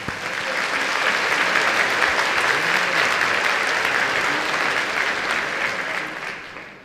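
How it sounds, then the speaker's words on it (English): Steady, dense applause from a large audience at a college commencement ceremony, a sustained wash of many hands clapping that holds evenly throughout and eases off slightly at the very end. "So could we give him a round of applause,"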